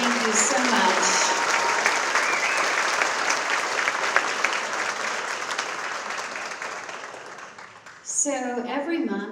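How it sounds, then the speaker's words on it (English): A round of audience applause at a Young Floridian Award ceremony, loud and dense at first, tapering off gradually before a voice begins speaking near the end. "A big round of applause for our receiving line and all of our leaders today."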